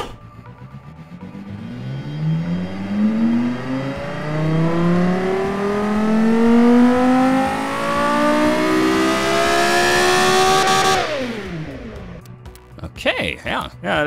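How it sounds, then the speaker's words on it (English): A car engine in a video game still in development revs up steadily through rising gears, the pitch climbing for about eleven seconds before dropping off abruptly, loud and close, with a voice speaking near the end. "let's give this engine a quick whirl"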